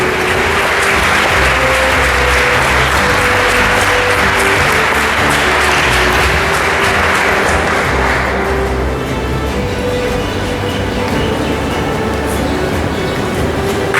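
Applause at a school toppers' felicitation ceremony, a loud, dense and continuous roar of clapping that eases off somewhat after the midpoint but keeps going, with a steady hum underneath.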